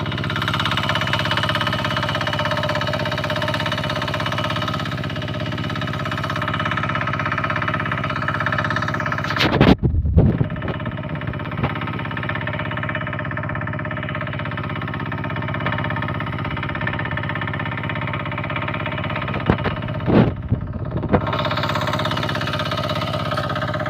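Two irrigation pump engines on a rice farm idle and chug together in a continuous drone, with a couple of brief louder knocks partway through; no voices.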